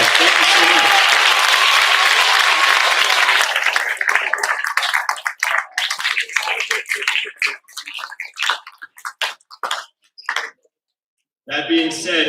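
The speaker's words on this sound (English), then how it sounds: "Kids, give your teachers a round of applause." A middle school assembly bursts into loud, sustained applause for teachers, thick clapping that thins into scattered claps and fades before talking resumes.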